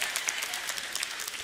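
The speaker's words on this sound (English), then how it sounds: "All the wives clap" A church audience breaks into steady, dense applause, the wives in the crowd clapping together in a continuous, moderately loud wash of many hands.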